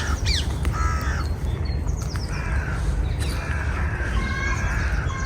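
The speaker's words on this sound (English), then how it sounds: "the noisy background chorus you can hear includes crows and ringneck parakeets" Crows and ring-necked parakeets call in a noisy chorus at Kew Gardens on a cold day, with repeated caws and shrill chirps over a steady background of wind or distant rumble.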